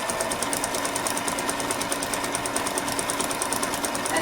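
A sewing machine runs zigzag stitching down a fabric seam edge with a fast, even, steady rattle, close and uninterrupted throughout.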